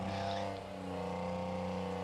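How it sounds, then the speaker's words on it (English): A GM diesel engine in a restored Chamberlain Super 70 vintage tractor drones steadily at a tractor pull as it hauls the sled, a close, continuous low rumble with no talk over it. "that GM diesel is sounding absolutely fantastic"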